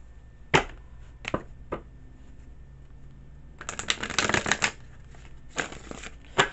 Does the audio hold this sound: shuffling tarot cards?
yes